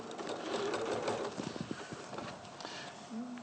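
A sewing machine stitching a quilt chatters in quick bursts of fast, faint needle clicks, with soft background noise.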